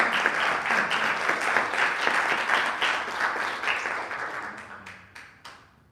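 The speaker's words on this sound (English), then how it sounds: "let's have one big round of applause for all the poets reading" A reception crowd gives a big round of applause for the poets who read, dense clapping sustained for several seconds before thinning out and fading to a few last claps.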